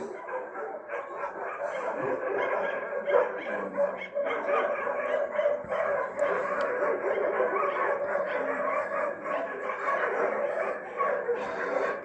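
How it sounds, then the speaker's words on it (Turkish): Many street dogs of a neighbourhood bark, yip and snarl continuously at once, a chaotic pack scuffle with overlapping growls and whimpers at moderate distance. "Mahallenin tüm köpekleri."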